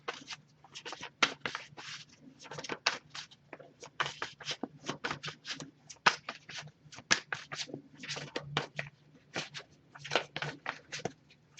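Tarot cards being shuffled close by, a steady run of quick papery riffles and rustles repeating in bursts with no talking.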